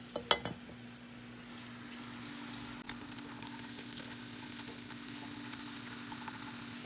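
Garlic, onion and chilies sizzle steadily in a pan for green-salsa chilaquiles, a close, even frying hiss with a few sharp clinks of a utensil at the start and another knock midway.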